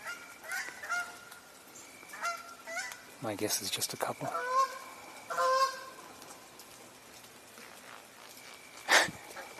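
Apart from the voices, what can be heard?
geese honking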